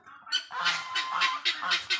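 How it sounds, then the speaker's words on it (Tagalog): A male guinea fowl calls among a flock of turkeys, giving a rapid series of harsh, rasping, honk-like cries in quick rhythmic bursts, fairly close and clear. "Yun naman yung Guinea Fowl na lalaki, yun yung boses"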